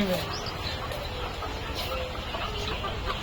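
Chickens cluck among steady outdoor background noise at Green Valley Park in Lalpur, Natore, with faint voices mixed in.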